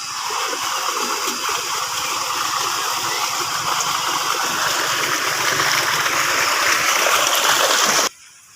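Irrigation water gushes and splashes steadily into a farm field, a loud continuous rushing flow close by, cutting off near the end.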